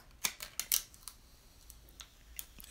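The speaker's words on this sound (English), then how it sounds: "we peel it off" Transfer tape peeled off cut adhesive vinyl in a few quick crackling rips and ticks, close and crisp, then fainter snaps and pops as the last edges come free, with no talking.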